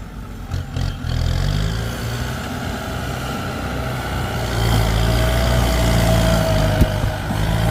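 A Kubota M108S tractor pushing heavy clay with a wide front blade, its diesel engine droning loud and steady close by, rising slightly in strength toward the end.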